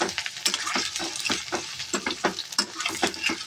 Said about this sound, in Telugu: ఇప్పుడు అన్నీ మంచిగా కలిసేలాగా కలుపుకోవాలి